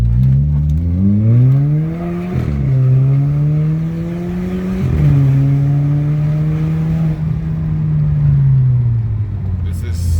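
A car with a DSG7 DQ200 seven-speed dual-clutch gearbox accelerates, its engine note rising and then dropping sharply at each of several quick upshifts, heard close from inside the car.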